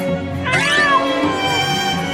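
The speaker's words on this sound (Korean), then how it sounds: "드디어 고양이 발견." A cat meows loudly and close by, a long drawn-out meow that starts about half a second in and trails off over roughly two seconds, with no talking.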